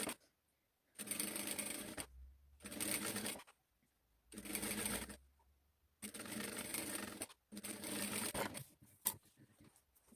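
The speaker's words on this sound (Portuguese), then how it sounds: "costurando pra fazer o pezinho de máquina bem retinho, pra depois não ficar o barrado torto" A sewing machine stitches fabric for a diaper hem with embedded lace, running in four or five bursts of steady mechanical whirring, each a second or more long, separated by short silent pauses.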